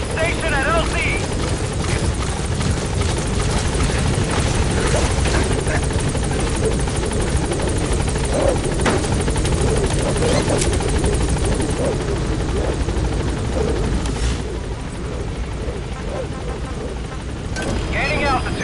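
Pequod, the helicopter in the video game Metal Gear Solid V, comes in to land at a landing zone. Its rotor drone is loud and unbroken, and voices speak over it.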